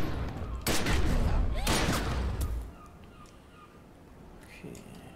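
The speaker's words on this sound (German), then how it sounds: "Ein Schuss." Several sharp, loud video game gunshot blasts ring out early in quick succession, then fade into quieter background ambience with a brief talking voice.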